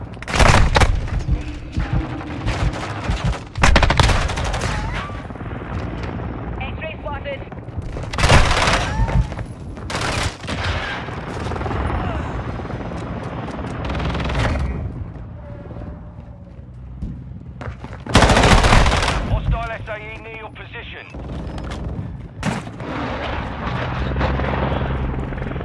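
Helicopter air support firing in the Modern Warfare 2 video game, a steady rotor drone broken by several loud bursts of rapid gunfire and booms, with radio-style voices talking now and then.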